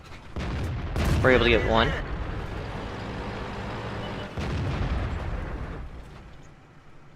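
AMX CDC tank's main gun fires in a video game, a loud blast followed by a long rumbling tail and a second heavy boom a few seconds later, while someone narrates over the action.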